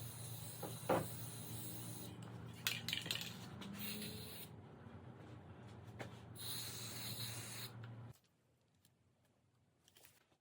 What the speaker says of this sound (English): I am going to use a spray can for this